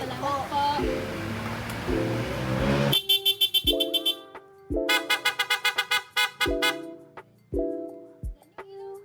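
A motorcycle fitted with a PIAA horn honks in a series of short, loud bursts, some repeated rapidly. This follows a stretch of nearby talk and traffic noise.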